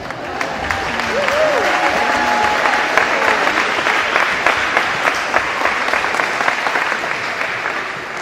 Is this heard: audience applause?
yes